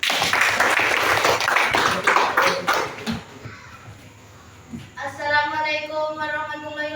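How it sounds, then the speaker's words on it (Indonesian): A classroom group gives a burst of dense hand clapping that thins out after a few seconds. Voices follow the applause. "Oke, kita beri tepuk tangan."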